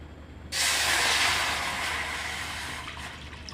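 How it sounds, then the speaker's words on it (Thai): Water pours into a hot pot and hisses sharply as it hits, a sudden loud burst of steam sizzle that slowly settles into a softer, steady hiss. "โอเค ใส่น้ำลงไป"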